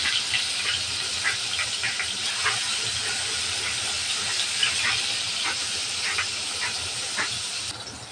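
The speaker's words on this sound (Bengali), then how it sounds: "তেল গরম হয়ে গেছে, দিয়ে দেব মাছ।" Fish rubbed with salt and turmeric, here hilsa, frying in hot oil, giving a steady loud sizzling hiss with scattered crackles and pops throughout.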